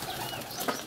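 Pigeons in a dovecote coo and rustle close by, with soft wing flaps and one brief sharper flutter amid a steady airy background.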